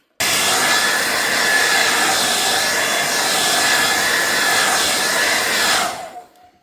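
A hair dryer blows loud and continuous over a gelli plate print for about six seconds before switching off and winding down.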